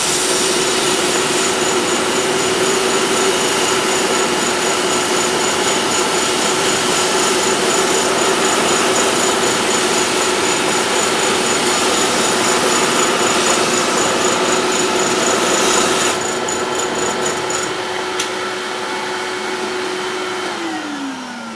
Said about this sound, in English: I'm going to take it through the drum sander one more time on the little flat spot here